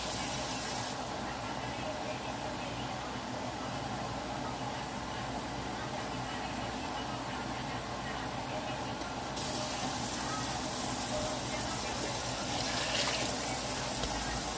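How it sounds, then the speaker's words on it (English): Hot water runs steadily into a pot of collard greens in a home kitchen, a soft continuous splashing hiss that grows slightly louder near the end. "I'm going to add hot water."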